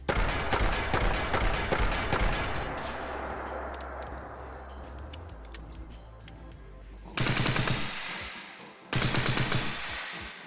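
Steampunk revolver from a Fallout 4 mod firing at Deathclaws in the game, with a long run of rapid, loud shots giving way to lower rumbling, then two more sharp bursts near the end.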